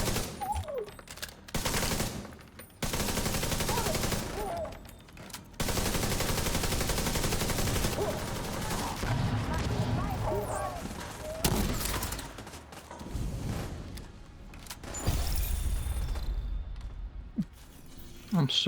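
Rapid automatic gunfire and heavy grenade blasts from a shooter video game, loud and dense in long bursts with brief pauses, dropping away near the end.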